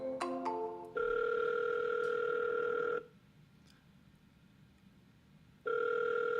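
Telephone tones on a cold call: a quick burst of stepped dialing beeps, then a steady loud ringback tone for two seconds, a pause of near silence, and the ring starting again, with no talking.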